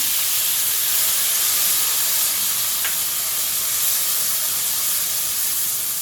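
Meat and kimchi stir-frying in a pan, a loud continuous hiss and sizzle that stays even throughout, close up with no talking.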